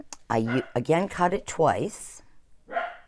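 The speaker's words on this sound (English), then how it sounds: "sorry if you can hear my dog barking" A dog barks in short bursts in the background of a home paper-crafting session, partly masked by someone talking steadily over it.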